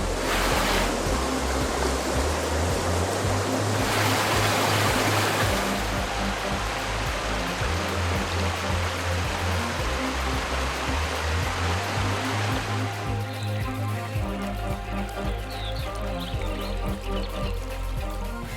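Roaring mountain river water rushes past during rafting, a loud, continuous broadband churn with surging swells and no voices.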